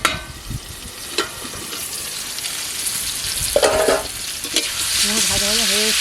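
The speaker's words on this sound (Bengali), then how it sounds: "কুমড়োটা ভাজা ভাজা হয়ে এসছে" Pumpkin pieces sizzling as they fry in a pan while being stirred, a steady hiss with occasional scrapes of the spatula and faint clinks, close and alone.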